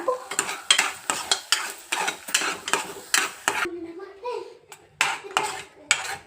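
Paneer masala cooking in a pan, rhythmic spoon scrapes and clinks against the pan over a soft sizzle, close up, with a short pause midway before the stirring resumes.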